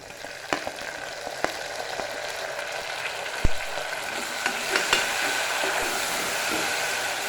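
Tomatoes and curry leaves sauté in hot oil, giving a steady close frying hiss with a few sharp ticks and pops scattered throughout, and no voices.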